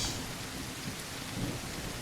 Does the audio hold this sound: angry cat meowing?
no